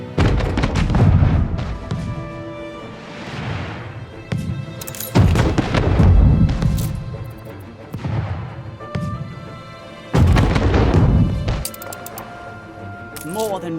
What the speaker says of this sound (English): Ship under attack.